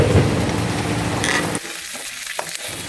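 Chicken pieces and potatoes frying in oil, dense crackling sizzle with stirring scrapes, loud and close, easing to a quieter spitting fry after a moment.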